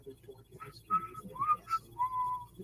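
A person whistles the tune of a song, a few short, faint, breathy phrases with gaps between notes.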